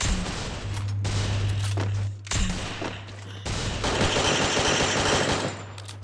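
Loud, rapid bursts of shotgun fire in a video game, a sustained fusillade with two brief pauses, close and dense with a steady low hum underneath.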